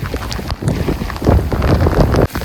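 Strong wind roars steadily and close, a buffeting rush with rough, flooding sea water churning underneath on the Konkan coast, briefly dipping near the end before surging again.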